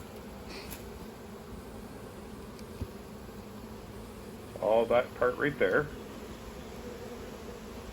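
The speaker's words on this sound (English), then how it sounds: "A drone is a male bee" A close, steady hum of honeybees fills an open hive while someone talks briefly over it.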